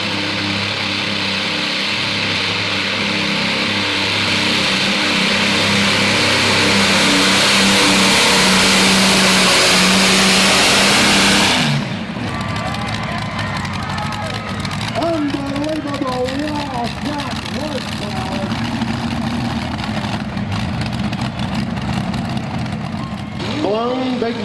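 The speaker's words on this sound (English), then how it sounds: "Blown big block Chevrolet wedge motors on it." Tractor-pull truck with blown big block Chevrolet wedge engines roaring at full throttle, a loud sustained engine howl for about twelve seconds that cuts off abruptly, followed by a quieter rumble with a voice talking over it.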